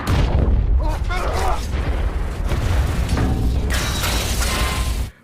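Continuous loud booming blasts and rumbling from rocket mortar explosions, with crackling bursts, fill the whole clip before cutting off abruptly.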